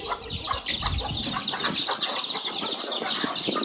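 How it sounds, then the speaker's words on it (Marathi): Agitated chickens squawk and cluck in a busy, continuous flurry as roosters fight, with some wing flapping and scuffling close by. "कोंबड्याचा गँगवार चालला इथं"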